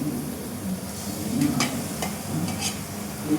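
Prawns tossed into masala in a pan for a prawn and drumstick curry, frying with a steady low sizzle and a few stirring scrapes. Nobody speaks over the close cooking sound.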